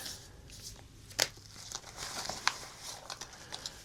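Close, sharp crinkling of a plastic bag in short irregular bursts, soft and dry against a quiet background.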